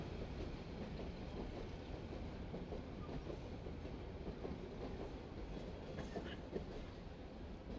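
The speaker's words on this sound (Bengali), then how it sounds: "আরে ট্রেনটা ডিস্টার্ব করলো।" A train passes close by near a large outdoor religious sermon gathering in Tongi, Gazipur, a steady broadband rumble with rail clatter filling the whole stretch at even loudness.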